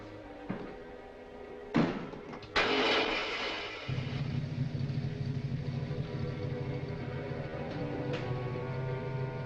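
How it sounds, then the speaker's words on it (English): A car motor cranks and catches after a couple of sharp thumps, then settles into a low, steady idling rumble that continues to the end. "Start the motor."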